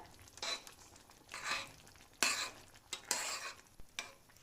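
A spoon stirs spinach dal in a pot in several scraping, swishing strokes with faint sizzling between them, close up and with no talking.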